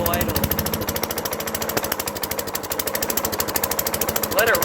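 A 15-year-old lawn mower engine runs at low idle up close, chugging in a fast, steady, loud rhythm with voices talking over it.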